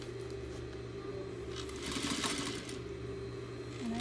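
A sewing machine runs steadily as it stitches around a fabric cylinder, a continuous close mechanical hum and rapid needle chatter with a slight swell midway.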